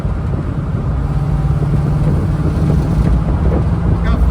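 A 1969 Pontiac Firebird fitted with a Holley Sniper fuel injection cruises on a town road, its steady low engine and road rumble continuous and close throughout, with wind buffeting the microphone.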